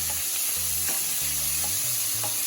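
Fat rendering for spaghetti carbonara sizzles steadily in a pan, while a spoon stirs and scrapes at intervals over the constant frying hiss, close and fairly loud, with no voices.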